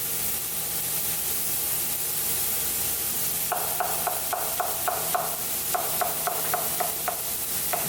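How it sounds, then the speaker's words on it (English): A knife slices through zucchini on a cutting board, a quick run of about a dozen close, crisp chops that starts partway in and comes in uneven bursts over a faint steady background hum. "I'm going to cut our zucchini up. I'm going to cut it in half first."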